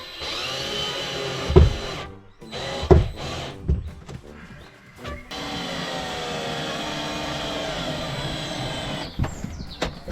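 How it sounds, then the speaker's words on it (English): Electric screwdriver driving screws into plastic panels of a Keter Darwin 4x6 garden shed, with a few short whirring bursts and knocks followed by a longer steady motor run up close, without talk. "I'm using an electric screwdriver to fasten the panels with screws."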